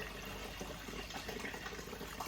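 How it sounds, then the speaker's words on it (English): Water flowing steadily through the cooling system of a BMW E30 during a flush, a continuous close gurgling rush with no voices. "I am just gonna keep adding some water just to keep flushing it out"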